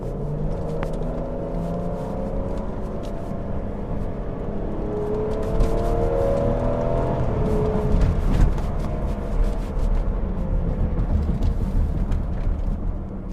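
A 2013 BMW X5 xDrive35i (E70) with the N55 turbocharged inline-six accelerates on a test drive, its engine note rising steadily under load with a smooth whir over about thirteen seconds, heard from inside the car.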